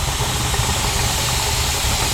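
A pressure canner steadily venting steam through its vent, a loud continuous hiss with a low rumbling undertone that stays even throughout, close up and without speech.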